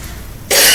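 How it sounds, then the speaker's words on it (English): A person's harsh, dry cough from a tight chest, a single loud burst arriving suddenly after a quiet stretch and sounding close. "but that dry cough, oh, it's so annoying."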